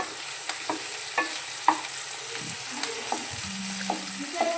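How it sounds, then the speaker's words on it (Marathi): Garlic and ginger fry in hot oil for a capsicum and onion bhaji, with a constant bright sizzle punctuated by sharp clicks and scrapes of a spatula stirring the pan. "तो पण याच्यामध्ये टाकून घेणार आहे त्याला छान असं तेलामध्ये परतून द्यायचं आहे"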